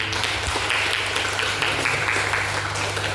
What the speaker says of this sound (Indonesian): Boleh tepuk tangan lagi buat